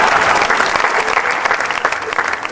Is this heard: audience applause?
yes